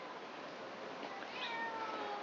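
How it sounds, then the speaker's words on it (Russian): A stray cat up in a tree meows once, drawn out and moderately loud, over a steady background hiss. "Она сидела, мяукала, смотрела на меня."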